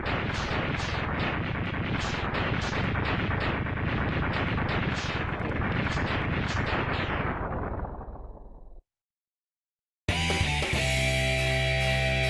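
Rapid repeated blaster shots from the Mega Man X8 demake video game, a dense rhythmic burst of loud pops lasting about eight seconds before cutting to silence and then game music.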